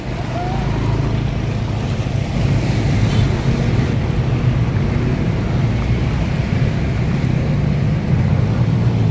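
Vehicles driving through deep floodwater on a flooded Saigon street after heavy rain, pushing up waves: a continuous loud low rumble of engines mixed with rushing, splashing water, steady throughout.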